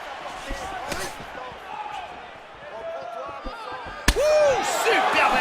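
In the EA Sports UFC 3 video game, kicks and punches land as a few sharp, scattered impact thuds and smacks, one especially loud near the end, under an excited commentator's voice.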